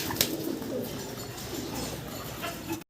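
Fancy pigeons in pairs at a Bangladeshi pigeon farm or market coo softly and repeatedly, a low steady murmur of several birds at moderate distance with no voices over it.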